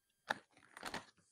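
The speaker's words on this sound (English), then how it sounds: "I like crunchy chips and it's a regular Lay" Lay's fried dill pickle and ranch potato chips crunch loudly up close: one sharp bite, then a quick cluster of brittle chewing crunches that fades out.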